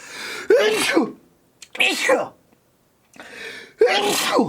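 A man sneezes several times in a row: a few sharp, loud bursts with short pauses between them, close to the microphone, with no other sound around them.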